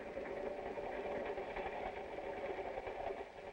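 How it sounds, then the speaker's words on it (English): A train running, as heard in a 1957 film about electricity: a steady, dense rumble with faint clattering that continues evenly throughout. "and makes trains go."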